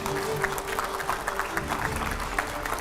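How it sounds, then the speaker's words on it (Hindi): Steady applause from a studio audience welcoming a guest onto a TV9 stage, a continuous wash of clapping at moderate volume with a faint hum beneath. "जोरदार तालियों से स्वागत करिए"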